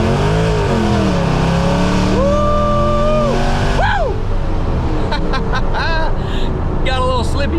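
A car accelerates hard through rising, climbing engine notes with shifts between them, loud and close, with a voice talking over parts of the pull.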